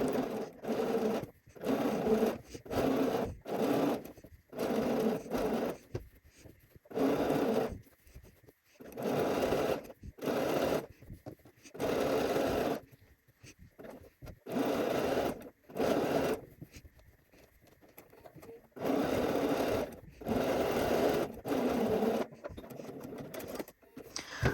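A sewing machine stitches a dress bodice in repeated bursts, each run of rapid close clattering lasting a second or two, separated by brief quiet pauses as the fabric is repositioned.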